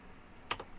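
Typing on a computer keyboard, a quick pair of close key clicks in otherwise quiet room tone.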